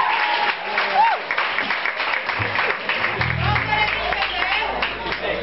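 A club concert crowd applauds a musician in a rowdy live venue, scattered clapping and crowd noise running throughout, mixed with voices and a low musical thump.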